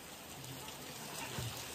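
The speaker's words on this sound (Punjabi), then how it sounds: "ਕਿੰਨੀ ਤੇਜ਼ ਹੋ ਗਿਆ ਮੀਂਹ" Heavy rain pours down at a farmhouse, a dense, even hiss of falling water that holds constant and fairly faint throughout, with no voices over it.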